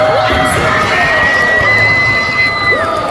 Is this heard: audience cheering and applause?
yes